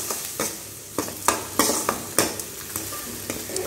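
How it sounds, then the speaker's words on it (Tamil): Ground tomato paste frying in hot oil for a tamarind okra curry, loud sizzling broken by repeated sharp spoon scrapes and stirring strokes against the pan, close and without talk. "இப்போ நம்ம அரைச்சி எடுத்து வச்சுருக்க தக்காளி பேஸ்ட் சேர்த்திக்கலாங்க."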